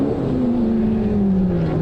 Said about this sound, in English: V8 engine Mercedes SLK. Great looking, great sounding car.